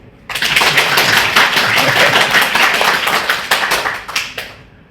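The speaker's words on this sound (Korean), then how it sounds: "박수." A church congregation at a Friday prayer meeting breaks into loud, dense clapping that starts abruptly, holds steady for about four seconds, then thins out and fades, close and with no voices over it.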